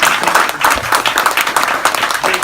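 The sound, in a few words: audience applause for hosts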